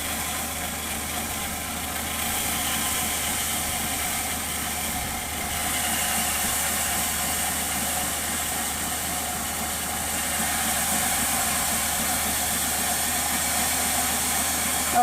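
Marble block sawing machine running steadily during installation, a constant loud mechanical drone with hissing noise and no talk over it.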